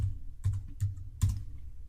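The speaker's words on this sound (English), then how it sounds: "I'm going to type Beamish." Three quick clusters of key presses on a computer keyboard, close and fairly quiet, as a keyword is typed into photo-editing software.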